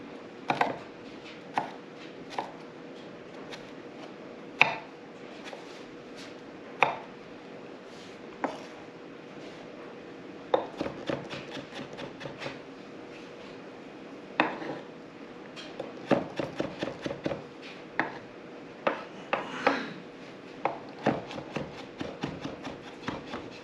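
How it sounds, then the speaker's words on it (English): Garlic being chopped with a new homestead kitchen tool: a run of sharp, close knocks and clicks, sparse at first and then quicker and more clustered, with no talk. "Chopped garlic."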